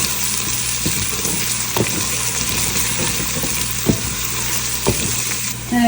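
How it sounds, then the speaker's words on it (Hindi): Sliced onions fry in a pan with a steady, dense sizzle and occasional stirring clatter, close and continuous without any voices. "इनको भी थोड़ा सा फ्राई करेंगे।"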